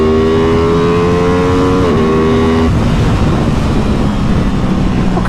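A 2023 Aprilia Tuono 660 Factory motorcycle accelerates hard in second gear, its engine note climbing steadily with one brief dip before the pull continues, loud and close over heavy wind rush.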